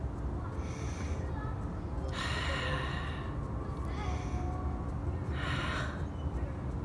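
A person takes a slow, deep breath in and then exhales. Several soft, airy breath bursts rise and fade over a steady low background hum.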